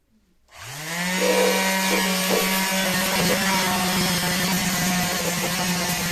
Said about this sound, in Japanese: じゃあ最後、青棒で磨いていきましょう。